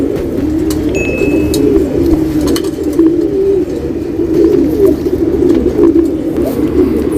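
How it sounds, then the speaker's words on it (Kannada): A male tara white-eye calls amid soft, repeated cooing from other caged birds, with a brief thin whistle early on and a steady murmur of background noise throughout. "ಬಿಳೆ ಕಣ್ಣು ಹಕ್ಕಿ ಬಂದಿದೆ"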